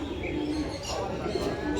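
Soft pigeon cooing murmurs steadily through a continuous low background hum, with faint chirps above.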